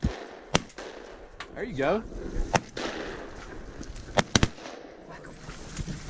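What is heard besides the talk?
shotgun shots during a gadwall duck hunt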